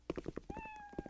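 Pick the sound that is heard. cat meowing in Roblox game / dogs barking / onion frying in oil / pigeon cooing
cat meowing in Roblox game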